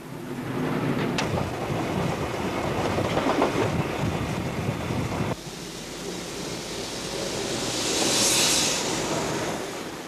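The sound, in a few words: steam train running on rails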